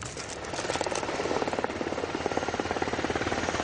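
A military medevac helicopter arrives to airlift a wounded soldier in Afghanistan, its rotor chopping in a fast, steady rhythm that grows closer and louder, with the engine whine riding above.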